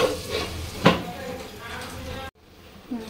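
Onions fry and brown in a pan with a steady sizzle, broken by a sharp clack of stirring and utensils against the pot partway through before a brief drop to near silence.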